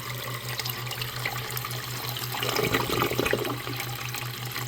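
Water gurgles and rushes as a reef aquarium overflow siphon drains, surging louder midway, over a steady pulsing pump hum.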